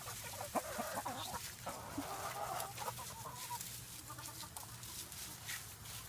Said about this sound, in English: See the chickens?